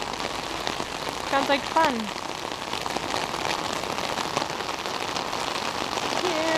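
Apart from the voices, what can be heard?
heavy pouring rain on the street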